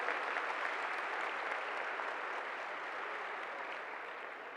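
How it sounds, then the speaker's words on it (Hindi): Steady applause from a large audience at the inaugural ceremony of a national conference of CA students, a dense continuous wash of clapping that fades slightly toward the end, with no talk over it. "बहुत जोरदार तालियां बजा के इनका स्वागत व अभिनंदन करें"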